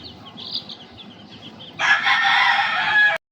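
A rooster crows loudly and close by, one long call, after faint clucking and chirping in the background.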